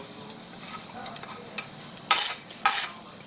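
Four cloves of chopped garlic drop into hot olive oil over a low background sizzle, followed by two short, loud bursts of hissing.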